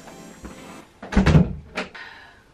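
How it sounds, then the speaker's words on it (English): A room door opened at home after furniture assembly, giving a short thunk and rattle of the latch and panel, fairly close and moderately loud, with a second softer knock shortly after; no talk over it. "I'm gonna open the door."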